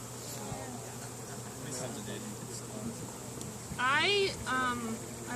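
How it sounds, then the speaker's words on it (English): A bumblebee buzzing around an outdoor apiary beside beehives, a soft continuous drone that rises and falls as it moves past, with a person talking briefly partway through. "There's a bumblebee."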